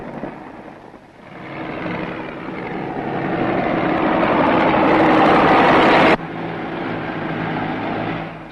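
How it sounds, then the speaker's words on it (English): A specially designed tractor with a milling attachment breaks up the surface of a peat bog cutting field, its engine droning steadily and swelling louder as it nears, then dropping abruptly after about six seconds. "This is a specially designed tractor fitted with an attachment that breaks up the surface of the cutting field"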